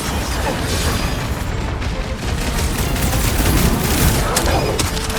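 Sustained heavy gunfire fills a combat scene in Marvel's Guardians of the Galaxy, with sniper and rapid fire shots blending into a dense, loud, continuous barrage with booms and no clear gaps.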